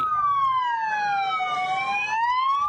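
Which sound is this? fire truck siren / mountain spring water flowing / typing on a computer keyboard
fire truck siren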